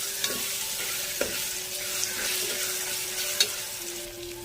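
Ginger garlic paste fries in hot oil for a Rayalaseema-style naatu kodi (country chicken) curry, a close, even sizzle broken by a few sharp spoon taps and stirring clicks, with no talking.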